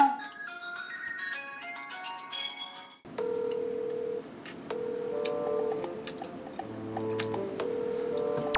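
Telephone keypad dialing, a series of steady electronic tones at uneven intervals following a brief musical jingle, clear and close with no talk.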